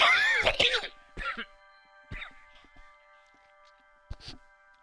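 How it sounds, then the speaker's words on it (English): A man coughs and clears his throat a few times, with short harsh bursts separated by pauses, close and fairly loud, and no talk in between. "Had to cough up some spit."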